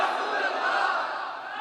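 A crowd at a religious gathering honouring the Prophet's family roars a slogan back in unison, a dense, loud wall of many voices held for a moment and then fading slightly.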